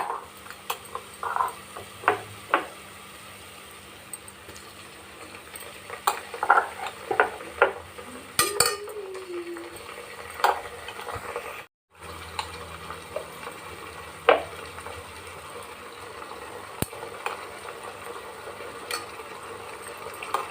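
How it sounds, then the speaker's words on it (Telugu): Ginger garlic paste fries in a pan for mushroom biryani, giving a soft steady sizzle broken by scattered clinks and scrapes of stirring, close and fairly quiet with no talk. "ఇప్పుడైతే అల్లం వెల్లుల్లి పేస్ట్ వేసుకోవాలి."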